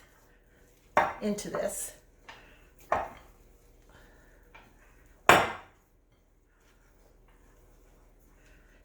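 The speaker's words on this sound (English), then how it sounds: "doing a little bit of simple kneading against the bowl" Biscuit dough for strawberry shortcake kneaded by hand against a bowl, heard as a few separate soft thumps and scrapes with quiet stretches between them and a brief spoken phrase.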